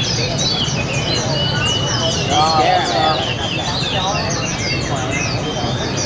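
Caged songbirds at a bird cafe in Saigon chirp and trill in a busy, overlapping chorus, steady throughout at moderate distance, with people talking nearby.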